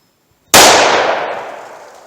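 A single sharp pistol gunshot from a 4-inch 9mm handgun firing Hornady American Gunner ammunition, a loud abrupt crack after near silence that rings out and decays over about a second and a half.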